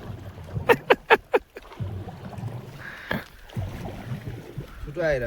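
Oars pull a boat across Kupinde Daha lake in Salyan, with four quick rhythmic splashing strokes up front, then quieter water sounds and another stroke, under occasional voices.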